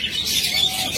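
Budgerigars, Australian doves and diamond doves crowd a bird farm, filling the air with a dense, continuous chatter of high chirps and twitters, close and steady throughout.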